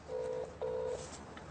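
A telephone number dialed on a keypad: two short touch-tone beeps in a row, fairly quiet over a steady background hiss.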